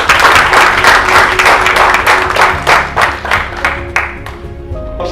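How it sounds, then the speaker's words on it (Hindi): Loud, steady applause from a live presentation audience fills the room with dense clapping throughout, thinning slightly toward the end. "एक बार अगेन उस पे जोरदार तालियां गाइस।"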